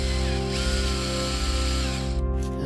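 A power drill whirs steadily and loudly up close, its motor droning without pause as it drives screws in.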